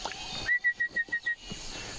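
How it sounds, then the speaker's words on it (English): A rufous-fronted babbler in Borneo gives a series of about seven evenly spaced, clear whistled notes at a steady pitch, standing out against quiet background. "rufous-fronted babbler"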